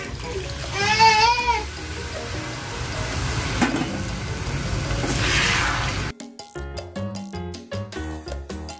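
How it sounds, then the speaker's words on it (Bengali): Water poured into chicken cooking in a pan for lemon ghee chicken, a steady splashing, hissing pour that runs for several seconds with a voice talking over it, followed by clattering pan sounds. "আমি চিকেনের মধ্যে দিয়ে দিচ্ছি পরিমাণ মতো জল।"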